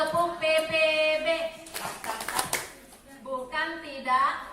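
An audience performing the rhythmic 'tepuk PPB' clap routine, a dense burst of clapping between stretches of chanted voices.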